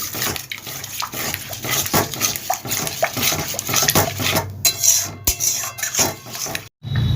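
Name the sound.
stirring and sautéing spice paste with water in a pan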